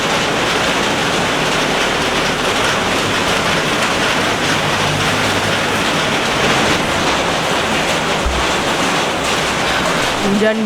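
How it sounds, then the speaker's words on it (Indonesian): Heavy rain falls steadily in a dense, continuous hiss that stays loud and unbroken from start to finish. "Hujan guys."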